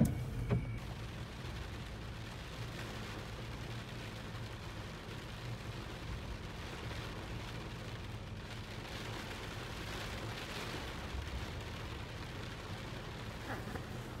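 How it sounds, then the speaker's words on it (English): Heavy rain falling outdoors, a steady, even hiss of drops on surfaces that holds at a constant level with no break, without any voices. "It doesn't rain like this that often."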